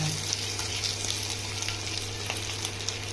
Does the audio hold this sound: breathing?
no